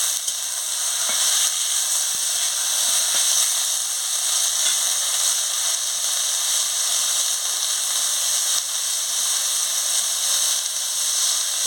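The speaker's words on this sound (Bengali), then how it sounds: "আনাজগুলো দিয়ে ভালো করে কষিয়ে নিচ্ছি।" Vegetables for dal are sautéed in a hot pan, giving a steady, close sizzle that holds level throughout with faint clicks underneath.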